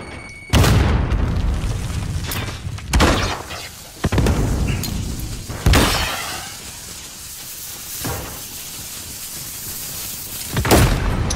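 Explosions in Call of Duty Modern Warfare gameplay, including Claymore mine blasts: several loud booming bursts at irregular intervals, each with a rumbling tail, over continuous game noise.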